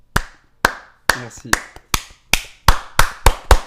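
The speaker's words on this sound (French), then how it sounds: "On peut l'applaudir." Sharp, crisp hand claps ring out one after another at an uneven, quickening pace, close and distinct, with a brief spoken word slipped between them.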